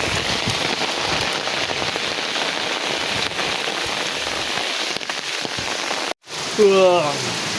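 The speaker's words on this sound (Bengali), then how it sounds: "রাত্রে প্রচণ্ড বৃষ্টি পড়ছে" Heavy rain pours down at night during a village storm in a dense, constant hiss, then cuts briefly before a voice speaks over the downpour.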